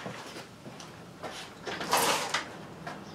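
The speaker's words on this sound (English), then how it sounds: "I'm going to open the door" A door in a home garage is opened with a few scraping, rattling slides and knocks that build to a louder rush near the middle, then settle into quieter scuffs.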